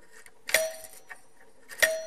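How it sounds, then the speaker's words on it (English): A real mechanical doorbell rings twice with sharp metallic strikes on its chime plates, each leaving a clear ringing tone, with faint clicks between them. "what you can see there is actually the workings of a real doorbell"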